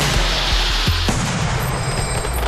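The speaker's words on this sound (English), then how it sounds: "It's always good to see fireworks, especially if you get to handlight them and get a little bit closer." Fireworks being tested at a firing range, hand-lit up close, pop and boom in a quick series of several sharp low blasts, followed by a fading crackle and hiss.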